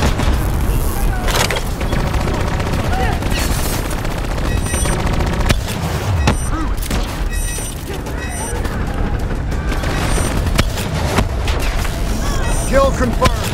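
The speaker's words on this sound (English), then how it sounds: "I'm gonna hit him with some fire blast." A fire blast attack erupts in a shooter video game fight against enemies alongside a micro missile launcher, with dense, loud booms and rapid gunfire-like bursts crowding the whole stretch without a pause.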